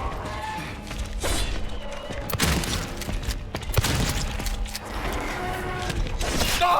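Repeated gunfire from a handgun or similar weapon in the Silent Hill 2 Remake video game, several loud sharp shots and impacts scattered through a tense stretch, with dense in-game ambience and crashes between them.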